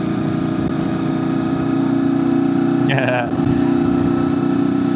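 A motorcycle ridden through a wind storm in Cape Town with the engine misbehaving, a constant droning engine roar under rushing wind, with a brief stutter and a short voice near the middle.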